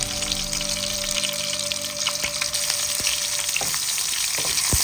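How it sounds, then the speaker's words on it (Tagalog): Garlic sautéing in a hot pan for a Filipino stir-fried vegetable dish, a steady close sizzle and crackle of frying with occasional clinks of stirring, no talking. "igisa lang natin ang ating bawang"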